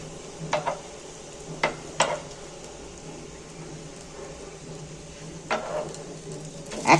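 Egg and potato pieces fry in oil, giving a faint, steady sizzle with a few sharp clinks of a utensil against the pan scattered throughout.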